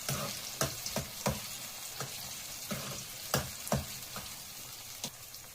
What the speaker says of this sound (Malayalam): നമ്മുടെ പച്ചമുളകും വെളുത്തുള്ളിയും ഇഞ്ചിയൊക്കെ ഒന്ന് നന്നായിട്ട് വഴന്നിട്ടുണ്ട്